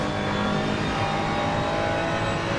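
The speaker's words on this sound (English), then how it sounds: "Rising up the hill to Piratella goes the 313 Ferrari." A Ferrari race car climbs the hill toward Piratella at Imola, its engine droning steadily and loudly at sustained revs throughout, with no other sounds.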